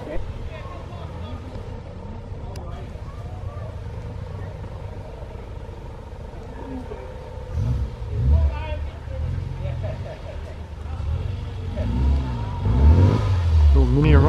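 A four-cylinder car with a single-exit exhaust pulls away at an outdoor car and bike enthusiast gathering in Sturminster Newton, its engine note rising and growing louder toward the end, under a steady crowd murmur and nearby chatter.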